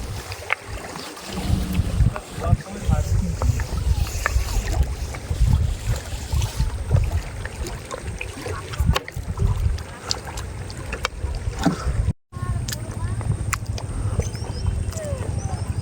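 A small boat moves along a river, with continuous low churning and water noise, wind buffeting the microphone, and a brief dropout near the end.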